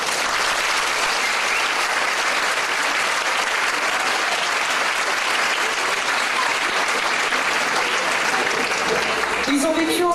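Loud, dense applause from a concert audience honouring a marching percussion band celebrating its 130th anniversary, sustained for the whole stretch, with a brief voice near the end.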